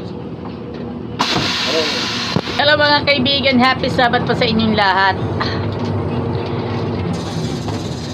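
Steady engine rumble and rattling cabin noise inside an LLI Bus travelling to Dalahican, running continuously beneath someone speaking close to the microphone.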